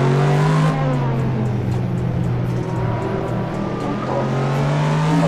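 A racing-game car engine revs hard and steady under throttle on a mountain road, a loud sustained drone with a slight shift in pitch partway through and no talk over it.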